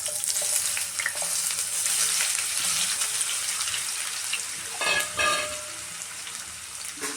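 Potatoes frying in hot oil on a low flame: a continuous, bright sizzle throughout with a brief louder burst of crackling partway through, close and steady, no talk.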